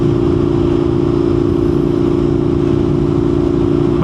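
An Indian FTR1200 motorcycle drones loudly and steadily throughout, its engine holding a strong, continuous roar without a clear break or rise in pitch.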